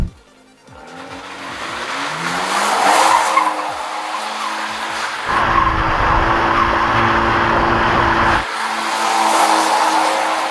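Abarth 124 GT roadster driven off-road on rough savanna ground with ESP switched off, engine revving loudly near and close, rumbling over the terrain with a rough, gritty drone that swells and eases.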